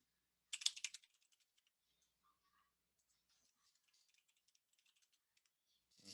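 Typing on a computer keyboard: a quick close burst of clicks, then sparse faint taps trailing off in a quiet room, with a brief rustle at the end.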